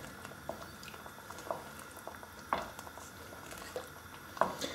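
Canned ingredients are stirred into a fish curry in a pot, giving soft wet squelches and a few sharper spoon clicks against the metal at irregular intervals over a quiet bubbling background.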